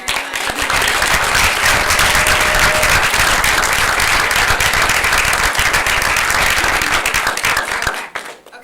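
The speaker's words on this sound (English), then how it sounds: "So just a big round of applause." An audience at a sexual health panel applauds loudly and steadily, dense clapping filling the room for several seconds before stopping abruptly.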